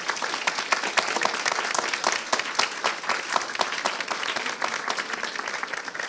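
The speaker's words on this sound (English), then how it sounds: "If we could give them a round of applause and thank them." At an outdoor Anne Frank tree planting ceremony, an audience gives volunteers a steady round of applause, many hands clapping densely and evenly for several seconds at moderate volume.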